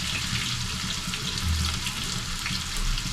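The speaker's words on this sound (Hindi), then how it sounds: "अभी हो गया मेरा ऑयल गरम। मैं अभी डाल रहा हूँ प्याज।" Onions frying in hot oil for fried rice, a steady, loud, close sizzle and hiss that runs unbroken throughout.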